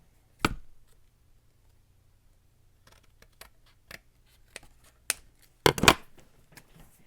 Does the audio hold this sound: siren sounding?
no